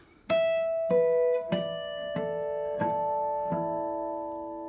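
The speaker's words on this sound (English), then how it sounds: "These notes are called harmonics, and when played with open strings, can be called natural harmonics." Several chiming natural harmonics on open guitar strings ring out one after another, each bell-like tone sustaining and overlapping as the notes layer together.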